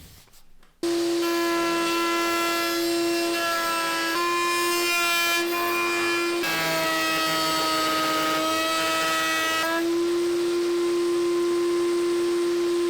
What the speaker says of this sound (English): I am securing the template on the piece with double-sided tape and cutting them on my router to